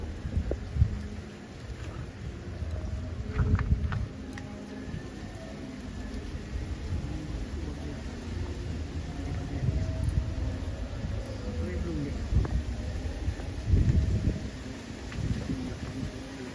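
Outdoor breeze gusting against the microphone beside a cooking fire, heard as a low buffeting rumble that swells and fades in uneven bursts, with faint bird calls in the background.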